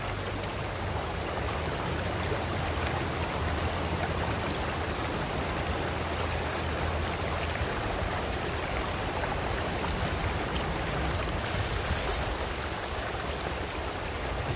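Creek water rushes steadily through a gold sluice with a classifier, a continuous even wash of flowing water, moderately close and without talk.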